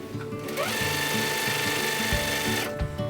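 A sewing machine quilts while couching yarn, stitching in a fast, steady mechanical rhythm, close and continuous throughout.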